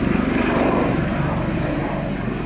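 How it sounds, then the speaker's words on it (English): A helicopter flies outside a castle, a steady loud rotor and engine drone that fills the scene without a break, with faint background noise and no clear talking. "The helicopter outside the castle."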